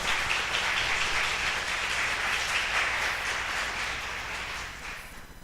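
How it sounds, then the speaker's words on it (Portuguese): A church congregation claps together during a service, producing a dense, steady wash of applause that fades out toward the end. "Pode aplaudir o Senhor."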